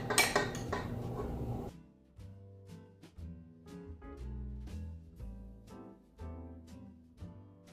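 A spoon clinks and scrapes against a bowl while red velvet cake batter is scooped and mixed, a busy clatter at first settling into rhythmic, close knocks and stirring.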